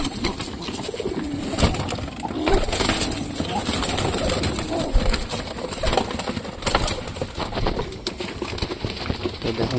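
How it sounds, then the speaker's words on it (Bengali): Pigeons coo softly and repeatedly while feeding, with occasional wing flutters and rustling. A few murmuring voices sit far in the background. "মোটামুটি সব কবুতরই খাওয়া দাওয়া করতেছে"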